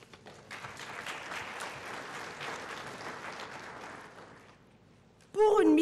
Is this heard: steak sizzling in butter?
no